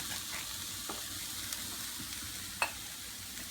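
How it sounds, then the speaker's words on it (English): Flour and milk are whisked in a cast iron pan for mac and cheese, a soft steady sizzle with faint scraping strokes and one sharper clink of the whisk. "we are just going to whisk it up"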